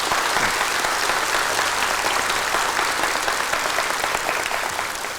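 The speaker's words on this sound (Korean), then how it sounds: "사랑이 통하고 있으니까 박수 한번 치줍시다" An audience breaks into loud, sustained applause at a talk on human relationships and health, a dense crowd of clapping hands filling the room without pause.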